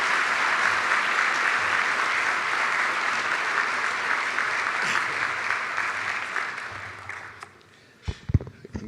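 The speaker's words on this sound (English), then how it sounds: "let's give him a very warm round of applause" A gala audience at a Boys Club 50th anniversary event breaks into sustained warm applause, loud and even for about seven seconds before tapering off into scattered footsteps and stage bumps.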